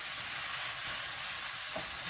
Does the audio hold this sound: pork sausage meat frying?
yes